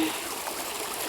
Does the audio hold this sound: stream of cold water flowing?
yes